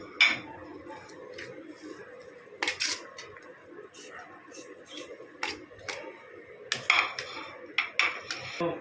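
Metal utensil scraping and clinking against a pan as shawarma filling is stirred and mixed, with irregular sharp taps and scrapes and quiet talk in between.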